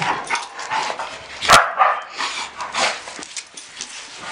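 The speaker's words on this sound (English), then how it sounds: "We have a nosy neighbor dog." A nosy neighbor's dog barks from nearby, with one sharp loud bark standing out among scattered softer yips and barks over a few seconds.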